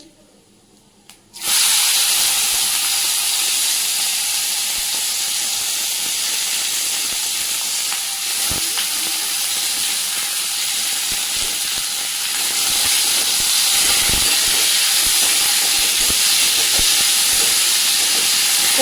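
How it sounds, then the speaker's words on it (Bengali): Onions frying in oil in a home kitchen pan give a loud, steady broadband sizzle that starts abruptly after a brief quiet opening and continues without pause, with faint clatters underneath. "পেঁয়াজটা একটু ভাজা ভাজা ততক্ষণে আমি একটু ফ্যান চালিয়ে গিয়ে বসি"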